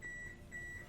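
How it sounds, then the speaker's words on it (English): Oven timer beeping in a home kitchen, a steady repeating pair of electronic tones at moderate distance, sounding alone without talk. "Oh, there goes my oven."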